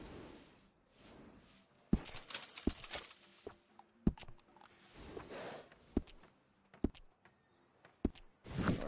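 Horse hooves clip-clop on the ground in Red Dead Redemption 2, sharp irregular knocks spaced a second or so apart over faint background ambience, fairly quiet and close.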